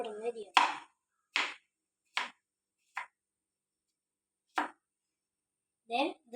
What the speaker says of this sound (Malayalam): ഇത് ഇവിടെ നിന്ന് അരിയാം.